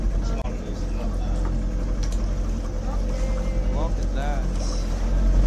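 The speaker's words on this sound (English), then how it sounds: "we're on the boat and they're gonna train us on this one. I hope you can hear me over the engine sound" A boat engine drones steadily and loudly nearby off Gili Trawangan, Indonesia, a constant low rumble filling the scene throughout.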